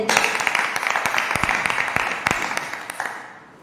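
A church congregation at a Hindi-language prayer service gives loud applause, a dense spatter of clapping with sharp individual claps standing out, gradually thinning and fading toward the end.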